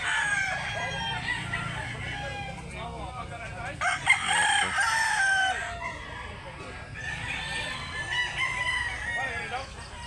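Two white Kelso roosters at a rural poultry sale, with repeated crowing and clucking close by over steady background noise and chatter.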